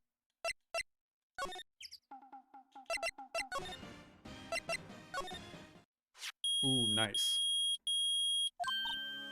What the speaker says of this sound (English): The metal detector's found something. Sure is loud enough about it.